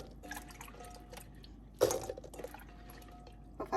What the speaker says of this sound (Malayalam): ഇപ്പം ഞാൻ റിൻസ് ചെയ്ത് ക്ലീൻ ചെയ്തെടുത്തു.